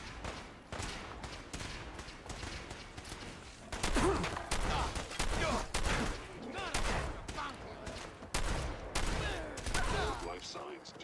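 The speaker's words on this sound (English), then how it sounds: "Who's firing where?" Rapid gunfire in Fallout 4, a dense run of sharp shots and bursts that swell louder about midway and keep rattling steadily to the end, with faint voices under the shooting.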